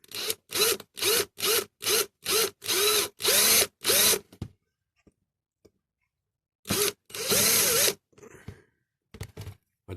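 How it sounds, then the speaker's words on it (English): A power drill whines in a rapid series of short bursts, then pauses before two more longer bursts grinding into metal, close and loud, drilling out rivets on a 1964 Dinky Toys Coventry Climax forklift model. "let's drill these bases out then"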